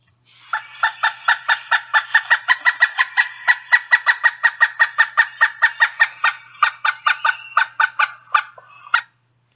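A pileated woodpecker gives a long, drawn-out series of loud, evenly spaced keck notes, about thirty in a row for roughly eight seconds, clear and alone with no other sound.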